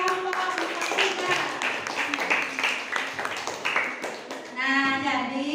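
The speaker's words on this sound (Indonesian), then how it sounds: "tepuk tangan untuk kelompok 3" A classroom claps for a student group, scattered hand claps rising and falling for a few seconds, with voices mixed in.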